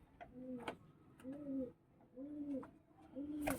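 Pigeons coo close by in a bird loft, four soft rolling calls repeated at an even pace with faint tapping and shuffling between them.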